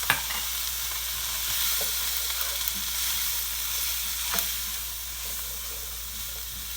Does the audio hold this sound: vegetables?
yes